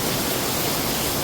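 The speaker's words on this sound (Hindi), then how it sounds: "पाइप में से पानी आने लग गया।" Rainwater pouring out of a pipe during a heavy downpour, a loud, steady, broadband rush of gushing water that fills the whole short stretch without a break.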